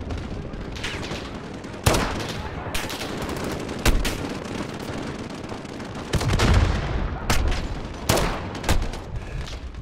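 Rapid gunfire in Call of Duty Modern Warfare, sharp repeated shots and bursts cracking close by over continuous battle noise, with a few louder blasts spaced through the stretch.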